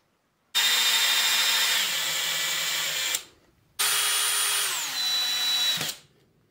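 A power screwdriver drives a self-tapping screw while fixing a wire in place around the house, in two loud, steady bursts of whirring of about two and a half seconds each, the pitch sagging slightly as the screw bites in, with a short pause between.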